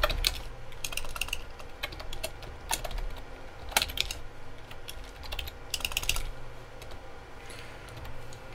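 Steady typing on a computer keyboard, quick irregular clicks with a few brief louder bursts over low background hum, no one speaking.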